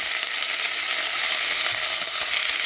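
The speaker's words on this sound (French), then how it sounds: "une tranche de gigot. Je vais la faire dorer d'abord." A slice of lamb leg browns in butter in a hot pan, giving a loud, dense, even sizzle that holds steady without any voices.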